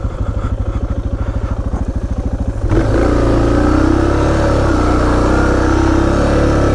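A Suzuki DR650 single-cylinder motorcycle chugs in a steady low thumping idle off-road on a worn tire, then the engine note rises into a louder, strained, labored pull under load, close to the microphone.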